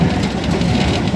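Mehman Baba Express passenger train with 19 coaches and one locomotive passing close by, a loud, continuous rumble and rattle of wheels and cars with no break over the short moment.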